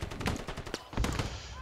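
Machine gun fire in the military shooter Squad rattles off in quick, repeated bursts of sharp shots at moderate distance, a dense staccato that fills the short moment, with a faint voice underneath.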